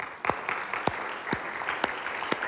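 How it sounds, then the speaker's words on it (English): A church congregation claps in a steady rhythm, each sharp clap landing about half a second apart, fairly faint and slightly distant. "Can we give the Lord a clap offering?"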